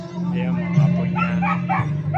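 A dog yips and barks in short sharp bursts close by, mixed in with people talking over a steady low hum.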